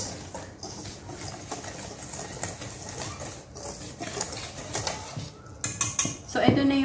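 Dry ingredients for a banana cake, including baking soda, mixed in a bowl, with steady utensil scraping and clinking against the bowl throughout and a sharper metallic clatter near the end.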